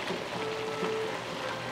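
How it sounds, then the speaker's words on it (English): Onions go into a hot pan with beef and sizzle steadily, a close, continuous crackling hiss with no voices over it. "Now let's add the onions."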